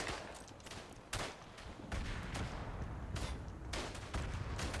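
Rifle and machine gun fire from the World War I video game Verdun during trench fighting, with repeated sharp shots and rattling bursts at a steady, fairly distant level.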